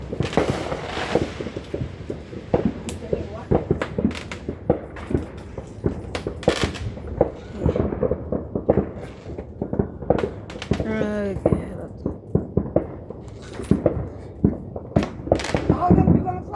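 Fireworks and firecrackers burst on July 4 in rapid irregular cracks and bangs, some near and loud, others distant, while people talk and exclaim throughout, with a whistling rocket rising partway through.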